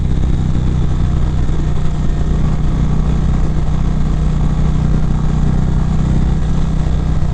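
Steady, loud engine drone of a 2019 Indian Chieftain motorcycle leaning through a sharper turn in sport mode, a continuous low rumble mixed with wind rush throughout, with no talking.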